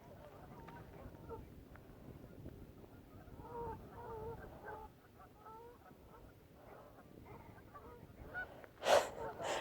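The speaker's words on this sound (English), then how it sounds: "I'm not escaping the geese at all today." Geese honk repeatedly in the middle distance beside a Yorkshire reservoir on a moorland walk, a string of nasal calls over steady outdoor noise, then a sudden loud rustling burst close by near the end.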